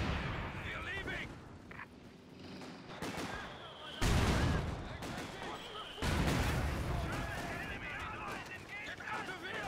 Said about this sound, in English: Taking hostile fire.